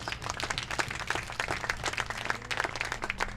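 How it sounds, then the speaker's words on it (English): Audience applause at an American Legion baseball awards night: steady, fairly close clapping from a room of people, continuous for several seconds over a low background hum. "So let's give him another round of applause."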